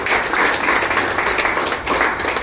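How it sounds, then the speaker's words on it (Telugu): Students and attendees at a TET coaching completion event clap together in thanks for a teacher, a thick, lively round of applause close by. "సుభాష్ సార్ కోసం కూడా ఒకసారి చప్పట్లు"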